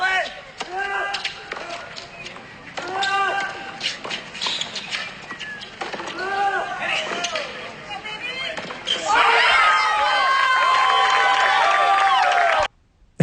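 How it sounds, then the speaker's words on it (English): A tennis crowd bursts into loud cheering and screaming after a point, following a run of ball bounces and shuffling footsteps, then cuts off abruptly. "I gotta love the crowd screaming."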